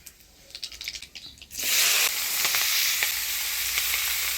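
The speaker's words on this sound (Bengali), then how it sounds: "ফোড়নে দিয়ে দিব কালো জিরা" Nigella seeds tempering in hot oil for a Bengali fish curry, a sudden loud hissing sizzle that bursts in after some quiet clatter and then keeps up a steady crackling fry.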